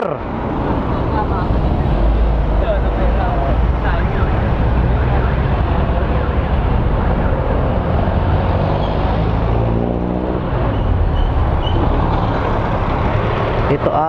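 A Kawasaki-style NK400 motorcycle engine runs steadily for the whole stretch, a loud, dense mechanical drone with no pauses, and some speech or background noise is mixed in.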